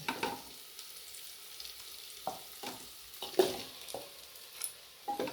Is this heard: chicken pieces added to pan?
yes